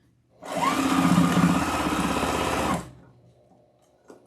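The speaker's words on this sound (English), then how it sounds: "Then you can put it directly under your sewing machine." A sewing machine stitches fabric in a steady, fast mechanical whir for a couple of seconds, then stops, leaving a faint click.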